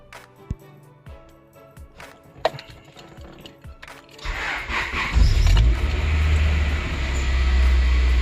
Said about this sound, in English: Start this baby up.